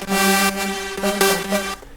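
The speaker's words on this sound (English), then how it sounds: "And the main part of the track, the lead section, it sounds like this." EDM lead synth melody made in FL Studio: a bright, dense, loud synth playing short stabbing notes in a quick rhythmic pattern, with no voices over it.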